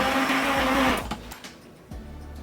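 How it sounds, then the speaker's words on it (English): Immersion blender whirring through butternut squash soup, a loud steady motor hum that cuts off after about a second, followed by a few clunks and a brief restart. "I'm going to use my immersion blender and liquefy the soup."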